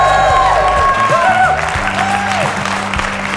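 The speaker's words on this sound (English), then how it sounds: "this rowdy crowd here" A rowdy audience at the Sacred Heart University Community Theater in Fairfield, Connecticut claps and whoops, with loud sustained applause and scattered cheers while a voice talks over it.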